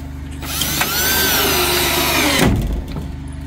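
Power drill driving screws into a vintage camper being repaired for water damage, one steady loud whirring run of about two seconds that winds down, with faint clicks before it starts.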